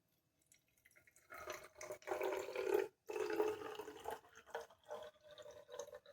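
Hair serum pours into a bottle in steady bursts with a brief pause midway, a close, splashy trickling that rises and falls over several seconds.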